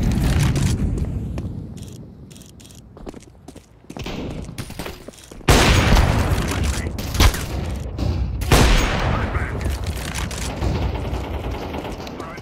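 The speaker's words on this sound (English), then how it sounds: "throwing a flashbang." A flashbang grenade going off during a Counter-Strike 2 Premier match, a sharp loud burst amid dense surrounding gunfire and game noise, with voices talking over it.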